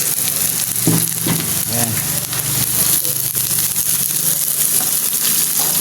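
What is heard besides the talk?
garlic and onion frying in a pan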